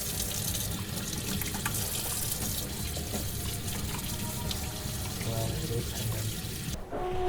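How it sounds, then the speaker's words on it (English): Hands being washed under a running kitchen tap, with a steady rush of water splashing into the sink, loud and close, broken off sharply near the end. "we need to go and wash our hands"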